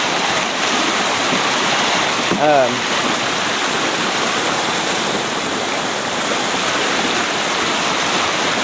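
Floodwater rushes down a creek during Hurricane Helene, where a dam has collapsed, making a steady broadband roar that stays loud and unbroken from near the bank, with a brief whistle-like tone partway through.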